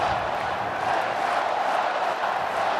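Oregon Ducks football crowd at a home stadium game against Idaho, a dense, steady roar of shouting and cheering fans filling the air continuously, loud and unbroken throughout.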